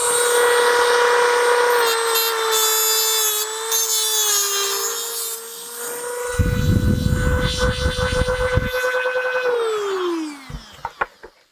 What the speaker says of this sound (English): One last cut. We'll see if we can make this Dremel work.